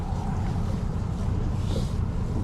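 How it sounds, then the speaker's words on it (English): Strong winter wind roars and buffets the microphone on Lake Guntersville, a constant low rumble with gusty hiss and no clear voices. "it is windy as it gets"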